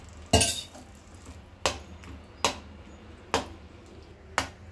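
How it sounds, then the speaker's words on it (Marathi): A spoon clinks against a pot while home-set buffalo-milk curd is mixed into cooked rice, five sharp separate taps spaced about a second apart over a quiet background. "आता छान ते दही टाकून आपण राईसमध्ये मिक्स करून घेतोय"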